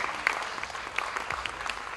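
An audience at a women's film festival closing ceremony gives loud, dense applause, many hands clapping steadily with a few sharper claps and an occasional cheer.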